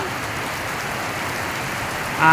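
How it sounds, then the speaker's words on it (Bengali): Heavy village downpour drums in a dense, steady hiss close by, without a break and with no voices. "মুসলধারে আপনার বৃষ্টি হইতেছে"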